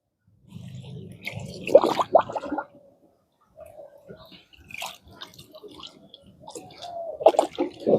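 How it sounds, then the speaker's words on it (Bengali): Water mixed with ORS is poured out onto plants in a few short splashing bursts with gaps between them, close and moderately loud. "আমি এই জলটা পুরোটাই আমি এখানে ঢেলে দেবো"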